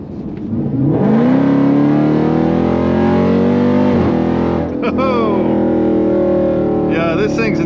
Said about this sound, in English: You just mash on the throttle, kicks into the right gear, and you just take right off.